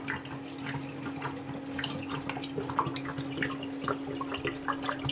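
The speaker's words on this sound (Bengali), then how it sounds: "দুধগুলো দেখো মামুনি এখন ঢেলে নিচ্ছে একটা বড় জায়গাতে" Milk poured into a large container, giving a steady close trickling and splashing liquid stream with faint drips, continuous throughout.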